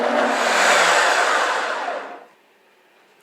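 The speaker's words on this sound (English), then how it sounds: "So I'm going to go ahead and puree this. It's going to have to go for about 2 minutes." A countertop blender purees vegetable soup with cream, a steady loud whir running for about two seconds before spinning down and cutting off into near silence.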